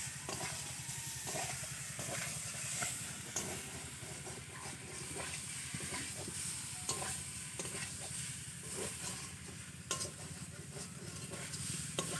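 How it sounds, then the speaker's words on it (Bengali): Boiled potatoes frying with spices in a pan, a steady hissing sizzle broken by repeated scraping stirs of a spatula, close and fairly loud, no voices. "আলুগুলোকে মশলার সাথে এরকমভাবে ভালো করে কষিয়ে নিয়ে"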